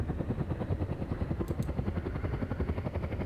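A military helicopter in the video game ARMA thumps with a steady, rapid rotor chop over a low engine drone, holding at a constant moderate level throughout with no talking.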